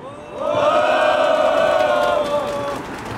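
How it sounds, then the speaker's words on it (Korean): A large crowd at a Yonhap News union rally in Seoul cheering and shouting together in a loud sustained roar, with clapping mixed in, swelling then easing off slightly. "힘찬 박수 함성으로 시작하겠습니다"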